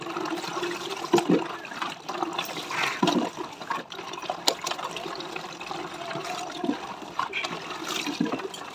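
Water from a rooftop tank pours and splashes during an outdoor bath on a hot day, a continuous rushing flow broken by louder splashes.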